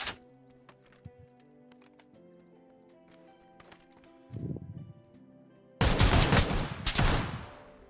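Shotgun fire in PUBG: two loud, close blasts land near the end after quiet game ambience and a softer thump, with no talking over them.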